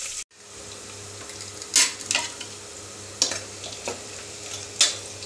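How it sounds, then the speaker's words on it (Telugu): Onions fry in a pan with a steady soft sizzle, while a utensil stirs them in several separate, scraping sweeps. "అవి కొద్దిగా ఎర్రగా వేగనిద్దాం."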